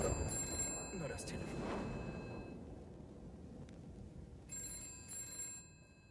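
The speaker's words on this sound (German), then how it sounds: "Telefon" A telephone rings in the video game Dreams, with a bright electronic trill in short bursts at the start and again near the end, over a busy background of game sound and voices.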